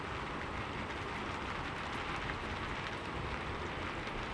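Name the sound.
gentle rain falling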